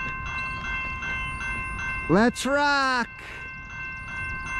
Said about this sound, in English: I think it's CSX M406. Here it comes.